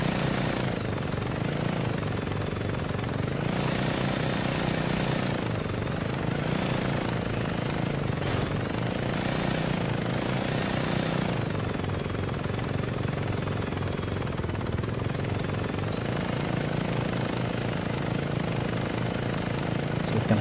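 A helicopter flies in the video game Saints Row 2, its rotor chop and engine drone continuous and loud for the whole stretch, pulsing steadily with slight surges.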